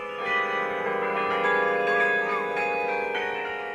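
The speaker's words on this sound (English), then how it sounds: "Hundreds gather each year to hear the bells ring familiar tunes" Carillon bells in a university bell tower ring out a steady melodic tune, their overlapping tones sustained and bright, sounding fairly close and continuous throughout.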